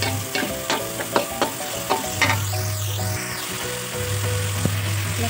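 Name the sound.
carrots frying in pan for soto ayam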